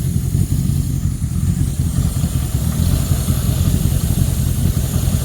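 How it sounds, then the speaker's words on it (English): A car engine idling with a loud, steady low rumble that holds evenly throughout, close by and with no voices. "There she goes, she's idling now."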